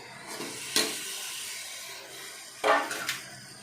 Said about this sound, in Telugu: చిక్కుడుకాయలు వేసేసుకోవచ్చు.